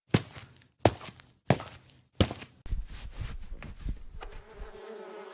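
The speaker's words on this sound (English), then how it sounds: "is that a beehive in my bed?" Cartoon bees buzzing in a beehive hidden in a bed: four hollow thumps at a steady pace, then a rising, continuous insect drone that swells and fades out.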